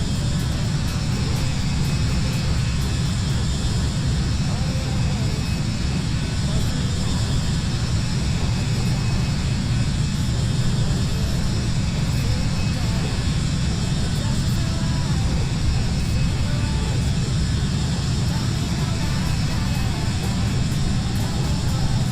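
Jet engines of an Embraer E175 regional airliner in a flight simulator game produce a steady, unbroken roar and hum at a constant loud level, with a pilot's voice occasionally heard over it.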